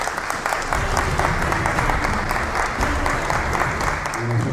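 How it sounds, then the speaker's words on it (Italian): Dense, sustained applause from an audience welcoming a photographer at an arts biennale event, a continuous wash of many hands clapping at even loudness throughout. "applauso"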